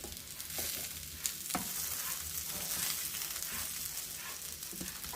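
Banana rava fry sizzles in a pan, semolina-coated banana pieces crackling in hot oil with a steady hiss, a few clinks of a utensil turning the pieces, close and continuous with no talking.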